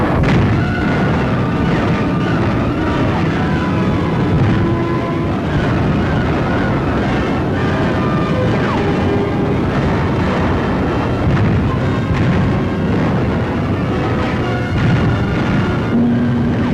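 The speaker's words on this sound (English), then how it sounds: "573 tons of bombs dropped." Heavy bombs exploding during a World War II strategic bombing raid, a dense, continuous low rumble of blasts and roaring wind-like noise that stays loud throughout.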